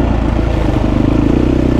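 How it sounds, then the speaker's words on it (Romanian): A Husqvarna 350 four-stroke enduro motorcycle engine runs close by with a loud, steady, throbbing low rumble, firing in an even rhythm with a faint mechanical clatter on top. "Deci Husqvarna 350, 4 timp."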